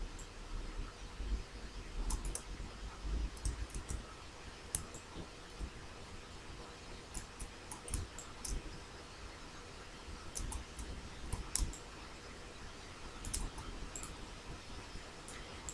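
Sparse, faint keyboard clicks in short bursts tap out text on a computer in a quiet room during PowerPoint slide work, with no talking.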